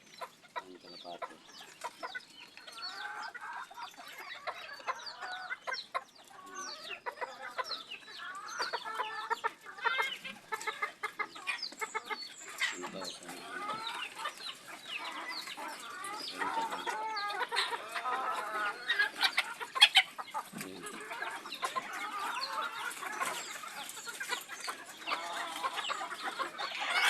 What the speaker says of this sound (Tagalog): Halos bantam lahat po yan. Medyo malaki na nga lang na bantam. Nag-aaway pa sila.